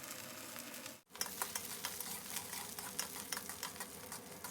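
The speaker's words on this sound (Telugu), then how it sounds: "హాఫ్ స్పూన్ మినపప్పు, అలాగే ఒక పావు స్పూన్ జీరా, ఒక పావు స్పూన్ ఆవాలు, అలాగే ఎండుమిర్చి వేసేసి వేయించుకుందాము." Urad dal, cumin, mustard seeds and dried red chillies fry in cold-pressed sesame oil, giving a continuous crackling sizzle with brief stirring scrapes after a momentary drop in sound.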